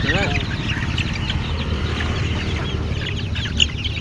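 Small-breed Mysore chickens cluck and squawk close by in a continuous busy chorus, with a louder call near the end.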